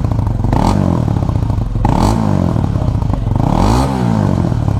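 A Honda CBR 2025 Thai Edition motorcycle engine is revved loudly up close three times. Each rise and fall is deep and bassy, with a rattling, crackly edge between the revs.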